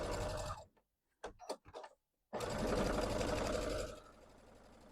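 A sewing machine stitching a quilting seam without a walking foot runs in a loud, close whirring burst, stops for a few quiet clicks of handling, then whirs again steadily and tapers off.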